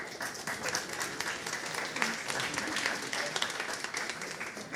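Audience applause at an evening biodiversity event in Quebec, a steady dense wash of clapping held at an even level from start to finish, with a faint voice briefly underneath.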